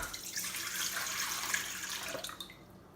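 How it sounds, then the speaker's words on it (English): Water pours steadily into a mixing bowl for pancake batter, a continuous bright splashing stream up close that tapers off at the end, with no talking. "We'll start off by adding our water."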